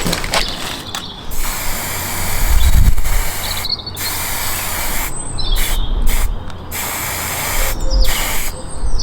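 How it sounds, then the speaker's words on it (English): Satin spray paint hisses from an aerosol can onto a Peugeot 205 GTI spare wheel cage in repeated bursts, with clicking nozzle presses and rattling in between, loud and close. "I just buzz over that with the satin spray."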